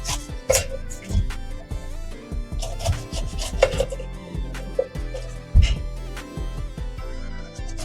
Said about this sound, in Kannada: ಪೈನಾಪಲ್ ಅನ್ನು ಕಟ್ ಮಾಡೋಣ